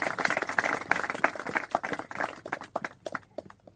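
A small group claps, the claps coming as quick, uneven beats that start dense and thin out into scattered individual slaps toward the end, fairly faint overall.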